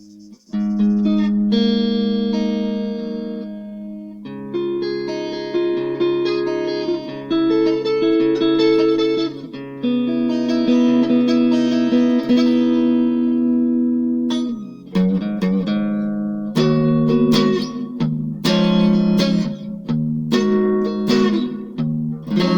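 Electric guitar notes and chords ring out through the hall setting of a reverb pedal, each note swelling and trailing into a long wash. No one speaks.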